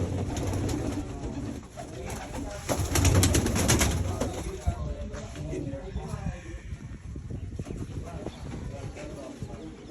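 Racing pigeons kept by a village fancier coo intermittently in a loft, with low throaty calls mixed under steady nearby conversation between men.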